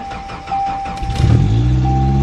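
A Ford Ranger pickup's engine starts from cold with a brief cranking whir and then catches into a loud, rough, steady idle close by.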